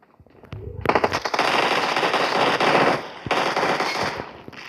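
Rapid automatic gunfire rattles in a shooting video game: long, loud, continuous bursts with one brief break before the firing resumes.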